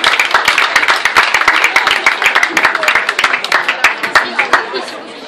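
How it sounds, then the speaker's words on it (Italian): A crowd claps steadily at a 2015 cosplay event in Grazzanise, with dense, rapid hand claps close by and light chatter mixed in, tapering off toward the end. "un applauso per incitare Claudio"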